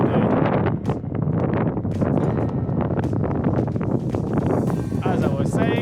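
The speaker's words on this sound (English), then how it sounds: "The wind is being a bit of a pain in the ass today." Gusty wind buffets the microphone on the Cromwell Golf Club course in New Zealand, loud rumbling blasts throughout with someone talking over it.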